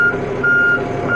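A John Deere 5080 tractor shifted into power reverse without the clutch: a steady engine drone with a loud, repeating electronic reverse beep, pausing briefly between long tones.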